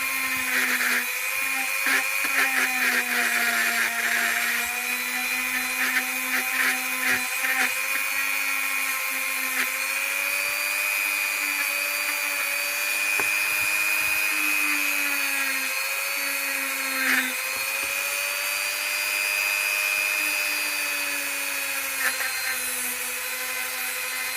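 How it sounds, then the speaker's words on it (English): Dremel rotary tool grinding a Victorinox Camper Economy Swiss Army knife blade, a steady high whine with a sustained tone that dips and shifts under load, loud and close for the whole stretch. "And then back to Dremel."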